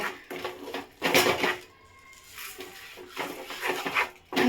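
A coconut and sugar mixture is stirred in a pan, giving repeated scraping and clattering strokes at close range, several bursts separated by short pauses.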